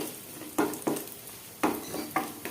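Raisins frying in a pan for carrot halwa, with a soft sizzle under four or five sharp scraping stirs of a spoon against the pan, close and steady.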